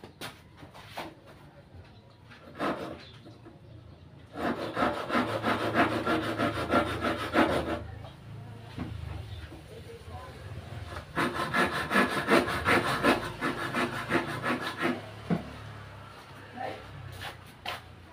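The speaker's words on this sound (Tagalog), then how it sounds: "nalagari ko na yung dalawang kahoy na pang pots pa" Two pieces of wood being cut with a handsaw for a sewing machine motor mount, giving rhythmic rasping strokes in bursts with pauses between, fairly close and loud, with a dog barking faintly now and then.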